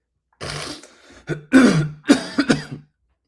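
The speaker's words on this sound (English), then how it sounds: "I don't mean to cough into the mic" A few rough coughs, throat-clearing bursts close to the mic, in quick clusters followed by a pause.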